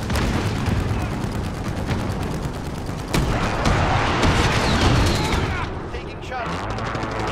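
Dense gunfire and bursts of automatic weapons in Call of Duty: Modern Warfare multiplayer fill the space continuously, with sharp cracks and booms layered over a constant roar of combat.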